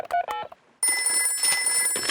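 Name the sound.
telephone call to Grandpa Pig, from Peppa Pig cartoon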